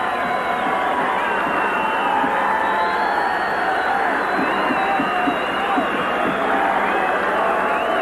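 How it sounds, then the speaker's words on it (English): Fans at a 1988 arena football game between the New York Knights and New England Steamrollers give a big hand as a player leaves the field, a steady roar of crowd noise, cheers and clapping that holds level throughout. "It's a big hand from the fans."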